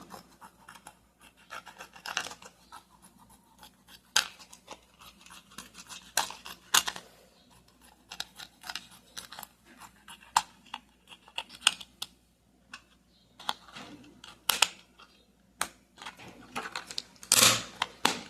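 Scissors snipping around the raised edges of a plastic pot, giving sharp, irregular crisp cuts and plastic scratches up close, some quick clusters and pauses between them, no talk.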